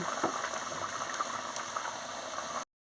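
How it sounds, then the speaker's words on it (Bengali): A pot of sour curry with tarai fish boiling on the stove, giving a steady, even bubbling hiss with faint ticking pops, close and continuous until it cuts off abruptly. "কি সুন্দর টগবো করে ফুটছে"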